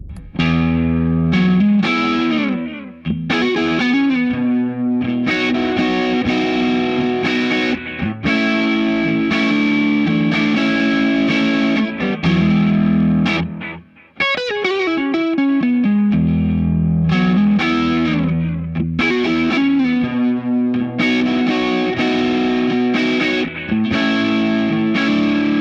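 Strat-style electric guitar with overdrive playing blues phrases, loud and continuous with sustained chords and quick note runs, a brief pause midway, no talking.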